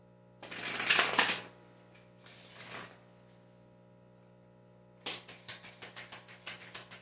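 Tarot cards shuffled up close in a quiet room: two riffling bursts, then a rapid run of sharp card flicks and taps near the end, with no voice.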